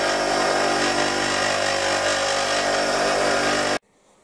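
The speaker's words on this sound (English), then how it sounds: "see where I'm grinding there? I'm just shy of the cutting edge." A lathe turning tool bit ground freehand on a bench grinder, giving a steady, loud, continuous close-up grinding whine that cuts off abruptly near the end.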